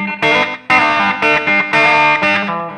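Distorted electric rhythm guitar plays a rhythm part, a loud run of chopped chords with a sharp start, short gaps between stabs and ringing sustain.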